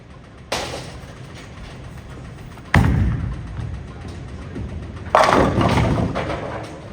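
A DNA bowling ball rolls down an oiled lane, a steady rumbling roll broken by three sharp, loud thuds spaced a couple of seconds apart, heard alone without voices.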